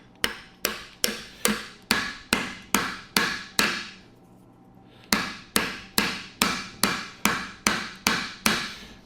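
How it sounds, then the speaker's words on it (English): A lead hammer strikes a 1975 Triumph TR6 transmission shaft in a steady series of sharp, ringing blows, about two per second, with one brief pause before the pounding resumes. "I'm gonna take this lead hammer, which is not gonna damage the shaft"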